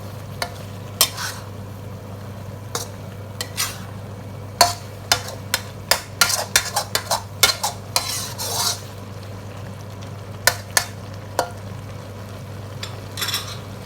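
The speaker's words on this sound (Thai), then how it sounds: "ก็จะผัดไปเรื่อยๆนะครับ" Thai tepo curry with salted fish is stir-fried in a pan, with a low steady sizzle under repeated sharp clanks and scrapes of a utensil on the pan, irregular and close, with no talking.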